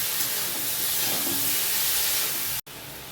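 Ridge gourd and potato pieces fry in a pan with salt and turmeric, a loud, steady, close hiss that continues unbroken apart from a brief cut near the end.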